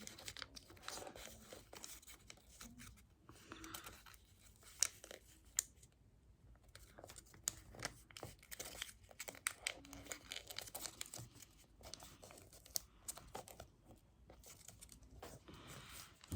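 A sheet of paper being folded into an origami squirrel, with soft crinkles, creases and rustling scrapes in irregular small bursts, close and quiet, no talking.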